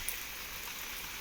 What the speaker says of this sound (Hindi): बढ़ी जा रही है बारिश, बहुत तेज़ी से लग रही है।